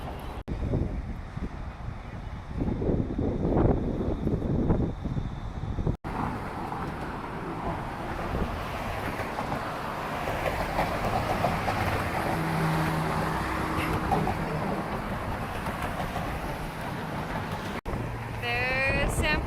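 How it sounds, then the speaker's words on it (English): Strong, cold wind sweeps across the Golden Gate Bridge in San Francisco, a steady close roar buffeting the microphone for the whole stretch, with a voice talking briefly near the start. "We're going to walk across the Golden Gate, and it's very cold and windy."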